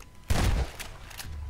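A loud, heavy gunshot boom in a dark Garry's Mod horror game, followed by fainter quick shots and a low rumbling background, with no talk.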